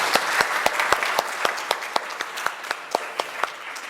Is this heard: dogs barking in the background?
no